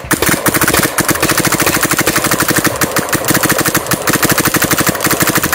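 An e-mech paintball marker firing in a rapid, unbroken stream of sharp pops, evenly spaced and loud and close throughout, with no pause in the string.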